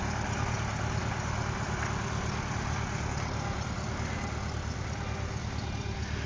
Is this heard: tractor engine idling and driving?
yes